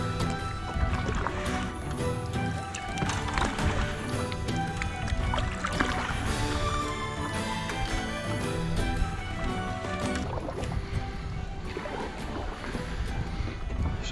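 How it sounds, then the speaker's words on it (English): A small old canoe is paddled across a pond, with continuous close water splashing and rhythmic paddle strokes mixed with some wind noise. "it's definitely noticeably easier to paddle than my bigger yellow canoe"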